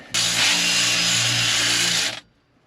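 A power drill whirs loudly for about two seconds, grinding steadily through material before spinning down and stopping.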